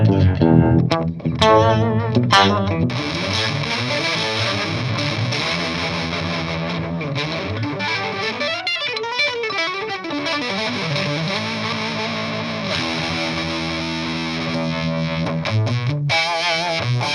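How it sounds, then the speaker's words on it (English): Electric guitar through a univibe pedal with an octave-down effect, playing a long distorted, swirling modulated phrase with wavering pitch movement and sustained notes, loud and close with no talking. "if you got this univibe sound, I think there's an octave down we can listen to"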